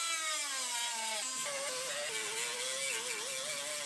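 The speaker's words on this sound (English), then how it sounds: "Or grinding them out, I guess." A grinder works at spot welds on a Mustang GT body, a high shrill whine whose pitch dips as it bites into the metal, steady and close with no talk.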